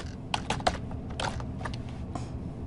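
Keystrokes on a computer keyboard in a law office setting, a handful of separate clicky taps spread irregularly over a few seconds, fairly quiet above a low steady room hum.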